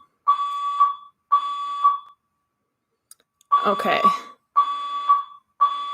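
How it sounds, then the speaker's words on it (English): A building fire alarm sounding in repeated steady electronic beeping bursts of about a second each, loud and close, with a short break where a person speaks a single word over it. "for whatever reason, there is a fire alarm,"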